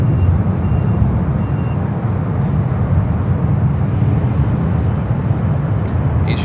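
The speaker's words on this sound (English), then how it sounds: "Flight 990 heading to Paris, the 777-200ER. Should be the next departure on the 28 left" A Boeing 777-200ER departs San Francisco International on runway 28 Left, bound for Paris as flight 990; a steady, loud broadband roar of jet engines and wind holds throughout, low rumble dominant, with no talk.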